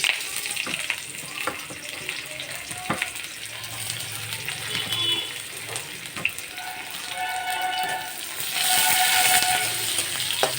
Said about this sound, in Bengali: দিলাম ফোড়ন দিয়ে এই যে পেঁয়াজটা দিয়ে দিলাম